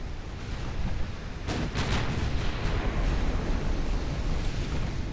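Naval gunfire and explosions rumble through a battle in the video game Ultimate Admiral: Dreadnoughts, a dense, continuous low roar of booms and blasts with a sharper crack partway through.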